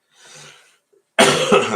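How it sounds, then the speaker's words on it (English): Two coughs: a faint, muffled one, then after a short pause a loud, harsh cough close to the microphone. "Sorry about the cough."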